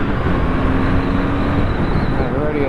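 A Triumph Bonneville T100 motorcycle accelerates in second gear, its engine drone steady and loud with a slowly rising pitch, heavy wind rushing across it.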